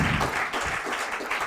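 An audience applauds steadily after a round-table discussion on edible landscaping, with a dense, even wash of clapping from a fairly large group lasting the whole moment.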